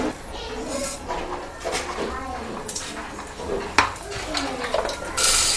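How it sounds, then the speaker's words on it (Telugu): Tempering spices dropped into hot oil in a pan for an Andhra dish, heard as scattered crackles and metallic clatter of a spoon against the pan, close by, with some background voice. "పోపు దినుసులు వేసుకోవాలి"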